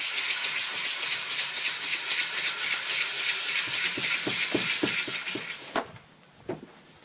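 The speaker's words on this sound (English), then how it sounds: "I'm just going to sand it with 150." Rusty cast iron sanded by hand with 150 grit sandpaper in a woodshop, a close, steady gritty rubbing in rapid back-and-forth strokes that stops near the end, followed by a couple of light knocks.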